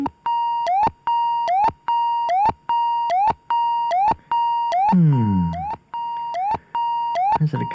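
A DB-01 synthesizer plays a random pattern that mimics a car alarm: a loud, repeating electronic beep with a rising chirp at the end of each cycle. It keeps a steady pulsing rhythm, broken once by a descending swoop, with no talk.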